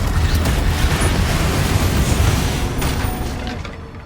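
The fiery Confringo blast spell from Hogwarts Legacy erupts in a loud, dense, booming burst that rolls on continuously for several seconds before tapering off.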